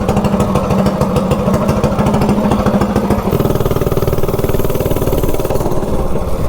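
Small minibike engine fitted with a VM22 carburetor velocity stack intake, a rapid throbbing putter held steady, then shifting pitch midway as the revs change, loud and close with no talking.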